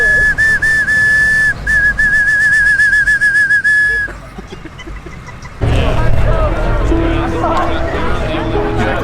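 A high whistle warbles at a car show in quick repeated bursts for several seconds, then stops; afterward a noisy stretch with clatter and voices follows.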